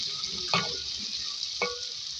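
Whole round red chillies and ground turmeric frying in oil for a chicken dish, a steady close sizzle with a couple of brief stirring scrapes.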